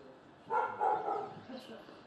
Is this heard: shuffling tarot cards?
no